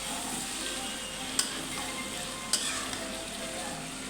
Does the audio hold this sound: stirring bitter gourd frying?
yes